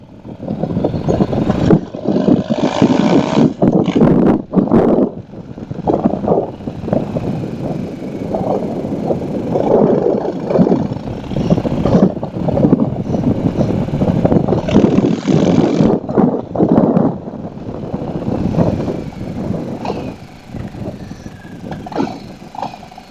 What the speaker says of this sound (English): I hope you can hear the bike. It sounds pretty good.